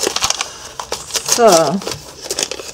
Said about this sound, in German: Aber jetzt zerreiße ich es.